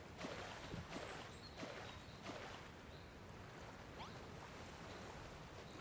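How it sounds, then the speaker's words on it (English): Water pours in the Dragon Quest Builders 2 video game, a continuous rushing splash like surf, with a few brief chimes and taps over it and no talking. "Pour some water here, please."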